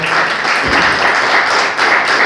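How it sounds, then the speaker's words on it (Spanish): Worshippers in a church give a burst of applause to the Lord, a loud, close, rushing mass of clapping that runs continuously for a couple of seconds with a brief dip near the end. "Dale un aplauso al Señor."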